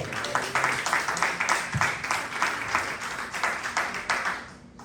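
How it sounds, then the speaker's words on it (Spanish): Church congregation clapping during a Spanish-language sermon, a lively patter of many hands with some rhythmic pulsing, steady for several seconds before tapering off, with a brief voice audible underneath. "¿Cuántos dan un aplauso a Cristo?"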